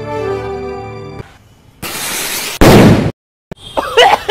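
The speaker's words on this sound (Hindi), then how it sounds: "आज देखिए यहाँ के लोग रात को पटाखे फोड़ने वाले हैं" Several sharp firecracker bangs and crackling bursts at night, with a loud popping blast, then a brief silence before more rapid crackles.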